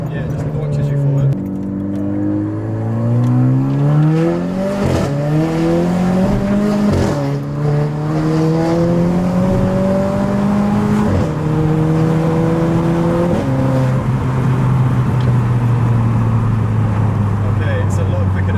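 A 250bhp Renault Clio RS with an induction kit accelerates hard through several gears, the engine note rising steadily and dropping at each upshift, loud and close from inside the cabin, with occupants talking over it.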